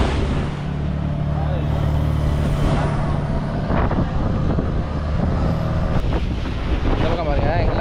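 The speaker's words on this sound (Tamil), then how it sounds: "பொடா ஐலாண்ட்லேருந்து நம்ம வண்டி கிளம்பிடுச்சுங்க" A tour boat crosses open sea near Krabi, Thailand, with steady engine drone, wind buffeting the microphone and water rushing past the hull, continuous and close throughout.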